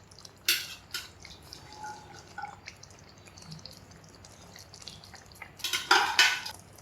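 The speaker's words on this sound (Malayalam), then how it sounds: "വേവിച്ച കടല ഇട്ട് കൊടുക്കാം" Cooked chickpeas go into a pan of chana masala gravy with metallic clinks and soft wet drips and splashes, busier bursts coming at the start and near the end.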